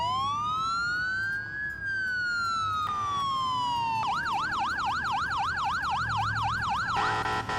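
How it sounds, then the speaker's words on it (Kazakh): An ambulance siren: a loud, close wail rises and falls slowly, then switches to a rapid warbling yelp that repeats in quick cycles, with steady traffic rumble underneath. "бұл көлік медициналық жәрдем беретін көлік"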